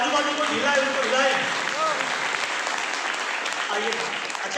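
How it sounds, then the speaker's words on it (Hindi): A seminar audience breaks into loud, sustained applause, a dense wash of clapping that holds steady for several seconds with a few voices calling out within it. "ताली जोरदार हो जाए"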